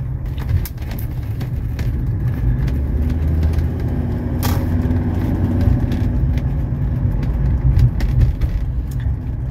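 A 1985 Mercedes 300SD sedan cruising along a side road, its engine and tyre rumble forming a steady low drone from inside the cabin, with faint chirps from outside and nobody talking.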